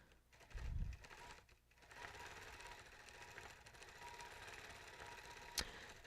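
A longarm quilting machine stitches through a loaded quilt with a steady mechanical hum and rapid needle chatter, heard close and alone after a brief low thump near the start.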